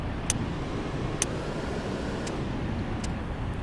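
Mercedes-Benz O405G bus engine in the OMSI simulator idles as a steady low rumble, with faint periodic clicks over the drone and no voices.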